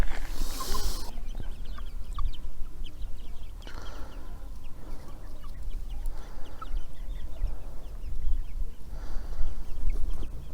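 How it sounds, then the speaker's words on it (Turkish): Several chickens cluck and murmur nearby in an irregular rhythm, with brief louder squawks over a steady low outdoor hum. "Bunlar kocaman tavuk olmuşlar artık maşallah."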